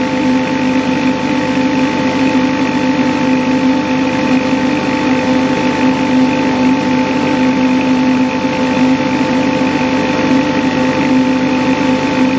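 A K40 laser engraver running a cutting test at high power and slow speed: a constant, fairly loud mechanical hum with steady tonal drones, unchanging throughout and heard alone.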